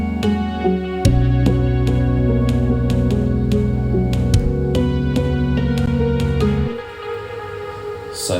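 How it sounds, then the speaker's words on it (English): Electric guitar in a church band drenched in delay and reverb, with ringing chords over low bass and steady beats that drop away near the end, leaving a washy tail. "Let's add in the delay again, and now it sounds a bit like this."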